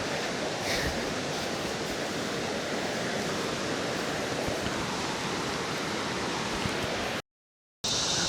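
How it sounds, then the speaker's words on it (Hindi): The Handawada waterfall in Bastar, near the Indravati, roars as a steady, dense, loud rush of falling water with no voices, broken by a brief dropout near the end. "वाटरफॉल की गड़गड़ाहट अब साफ सुनाई दे रही है"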